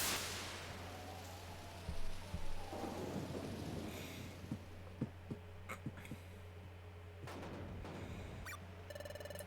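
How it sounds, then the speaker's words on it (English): Nighttime thunderstorm in the video game Pokémon Mystery Dungeon: Explorers of Sky, with steady rain and a low hum throughout, rolling thunder rumbles early on and scattered sharp raindrop ticks and crackles. "Wait, that lightning's intense. It looks like it's really stormy tonight."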